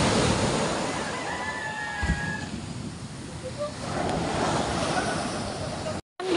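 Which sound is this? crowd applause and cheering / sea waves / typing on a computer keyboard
sea waves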